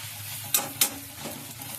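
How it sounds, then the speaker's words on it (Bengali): Egg omelette frying in a pan just after being flipped on a lowered gas flame, a soft continuous sizzle with two sharp spatula clicks near the start, close and fairly quiet. "এবার ডিমটাকে আমি পাল্টে মেরে দিলাম"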